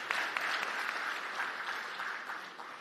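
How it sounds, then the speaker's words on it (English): Steady applause fills a conference hall at the Afreximbank annual meetings, a dense, continuous clapping from a large audience that starts strong and tapers slightly toward the end, with no talk on top. "I do want to have you just give another round of applause to Professor"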